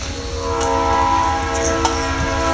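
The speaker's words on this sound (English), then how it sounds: "Big train will be coming through here in just a second." A freight train rumbles past close by near a rail yard, with rhythmic wheel clatter and a sustained horn tone ringing over it.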